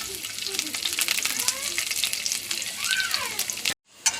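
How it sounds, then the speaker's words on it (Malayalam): Chopped garlic frying in oil in a pan, a dense crackling sizzle with scattered pops and stirring, near and steady before a brief cut to silence. "വെളുത്തുള്ളി നന്നായി മൊരിഞ്ഞു"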